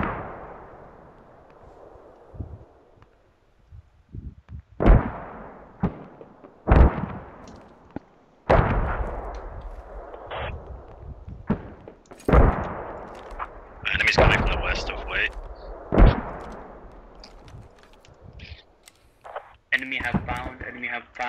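Mortar fire in the military video game Squad: a string of sharp, booming blasts with rumbling tails, some close and loud, others farther off, while voices talk over the radio.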